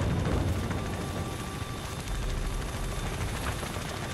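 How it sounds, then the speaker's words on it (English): Helicopters in Call of Duty: Ghosts on PC, during the All or Nothing mission: a dense, constant rotor roar with gunfire crackling underneath, steady and loud throughout. "Choppers are inbound"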